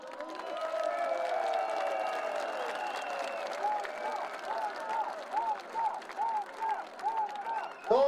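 A rally crowd in Iași applauds and cheers at a USL political rally, with loud, dense clapping and crowd noise. Repeated tonal calls, like chanting or horns, rise over it, and a burst of noise comes near the end.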